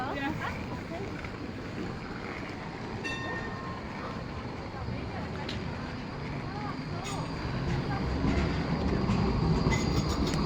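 Trams roll through a Basel street at a Christmas market, a steady rumbling rail noise with faint clatter and occasional squeal, growing louder toward the end, with voices murmuring in the background.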